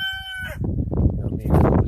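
Chickens on a farm make a short, high crowing call followed by low, close clucking and scuffling for a couple of seconds.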